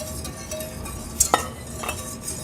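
Spoon stirring milk and sugar heating in a pot, a low swishing with a couple of sharp metallic clinks against the pot partway through, heard close and without talk.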